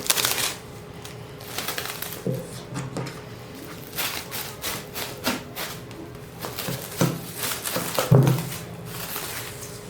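Rustling and crinkling as a cover is pulled off risen bread dough, soft scattered handling noises at close range with a few sharper crackles, no talking.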